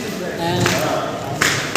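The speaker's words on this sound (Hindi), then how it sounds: "यहाँ से बजाई हुई एक ताली सीधे किंग के दरबार में सुनाई देती थी" Handclaps ring out at Golconda Fort in Hyderabad, a few sharp echoing claps spaced apart over a background of nearby voices and open-air ambience.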